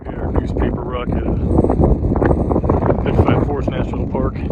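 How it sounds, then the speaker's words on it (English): Strong wind buffets the microphone outdoors at Newspaper Rock in Petrified Forest National Park, a loud, steady rumbling roar with gusty surges throughout. "It is still super windy."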